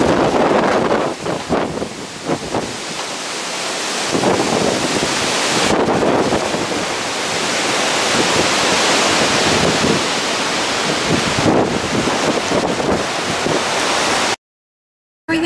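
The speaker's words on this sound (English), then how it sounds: "So this is out at the point of Japan, where the waves are coming in." Ocean waves surge in at low tide during Hurricane Sandy, a loud, continuous roar of surf heavily buffeted by wind against the microphone, cutting out abruptly near the end.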